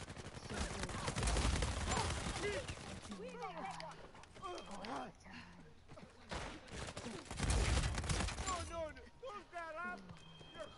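Rapid gunfire and impacts in an Uncharted 4 multiplayer match come in loud bursts, mixed with game music and effects while players talk over the action.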